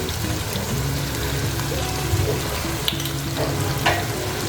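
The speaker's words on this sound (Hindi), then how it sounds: "अब हम इसके अंदर हम थोड़ा सा ज़ीरा ऐड कर लेंगे।" Cumin seeds frying in hot oil for a Lahori potato curry, a steady close crackling sizzle with small pops and occasional stirring scrapes, no talking.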